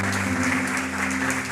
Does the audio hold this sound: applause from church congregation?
yes